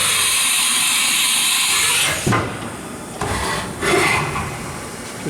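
A Haas Super Mini Mill vertical machining center drives its table through a rapid crisscross pattern, giving a steady loud mechanical whir and hiss that shifts abruptly at each direction change, alone without talk.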